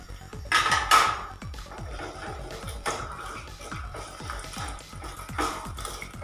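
Gulkand, about 200 grams, frying in ghee in a pan for a rose halwa, with repeated scraping and stirring strokes of a spoon against the pan in a steady rhythm and a louder clatter near the start.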